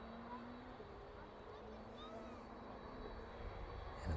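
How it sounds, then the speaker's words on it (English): A Boeing 737 jet departing East Midlands Airport for Gran Canaria, its engines a low, steady rumbling roar with a faint whine that builds toward the end. "looks like it's on its way now. Chewy 737 off to Gran Canaria then this afternoon"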